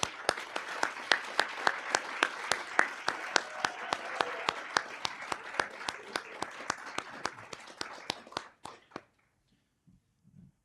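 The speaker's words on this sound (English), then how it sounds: "A big round of applause for these 3." An audience at a spring 2019 university speech showcase applauds steadily for about nine seconds, crisp individual claps standing out from the dense patter before it tapers off into near silence.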